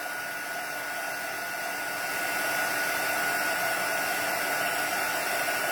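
An embossing heat tool blows a steady, loud hot-air roar across a card while melting white embossing powder, a constant broadband whoosh that swells slightly midway and runs alone without talk.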